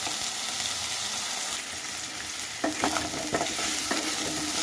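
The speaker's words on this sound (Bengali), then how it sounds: "কড়াই গরম হয়ে যেতে তারপরে কচুটা দিয়ে একটু হলুদ দিয়ে ভাজবো।" Taro pieces with turmeric fry in hot oil in a wok, a steady bright sizzle throughout, with spoon scrapes and stirring knocks joining toward the end.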